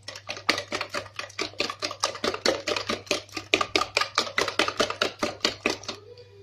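Eggs and sugar are beaten together in a bowl for a zebra sponge cake, about two dozen quick, even tapping strokes in a brisk rhythm, loud and close, then a stop.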